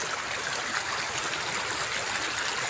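Strong flowing water in a sulfur-laden stream channel, a loud continuous broadband rush and gurgle with no pauses, heard close and alone.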